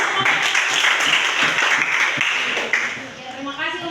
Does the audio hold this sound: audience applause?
yes